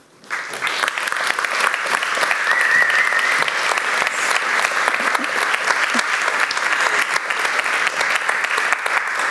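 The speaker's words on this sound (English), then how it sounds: "Such a generous applause." Sustained, dense applause from an audience at an evening climate-justice talk event, rising quickly at the start and holding steady and fairly loud throughout.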